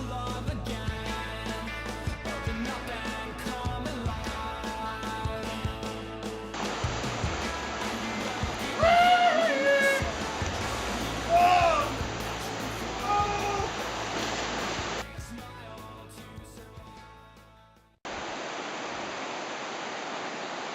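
River water flows steadily through Malaysian jungle in Mulu Park on the Headhunters' Trail, a broad continuous rushing wash close by, swelling in the middle and cutting off briefly before resuming.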